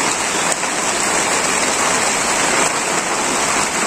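Rain falls steadily on a Bangladeshi village, a loud, even hiss of drops on surfaces that continues unbroken, with no voices.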